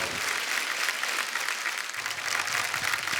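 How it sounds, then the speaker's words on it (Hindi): Dense, steady applause from a studio audience greeting Badshah on The Kapil Sharma Show, a continuous wash of many hands clapping at moderate level throughout, with no voices standing out. "बादशाह बाजी के लिए जोरदार तालियां"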